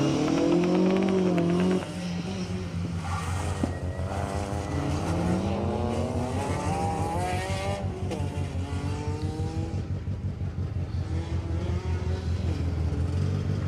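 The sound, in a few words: rally cars arriving at the time control after a stage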